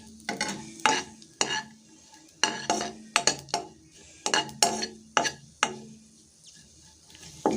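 Leftover roti pieces shallow-frying in a pan over a low flame, with repeated clinking scrapes and stirs of a spatula at an uneven rhythm over a faint background sizzle, close and alone.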